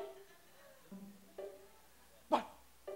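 A man imitates a dog on a television variety show with a few short, separate barks and yelps, spaced apart, the last one loudest.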